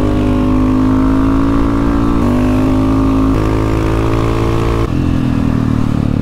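KTM 690 SMCR and 660 SMC supermoto motorcycles race together, their single-cylinder engines loud and close with strong harmonic tones, pitch stepping down and climbing again through several gear changes over steady hard acceleration.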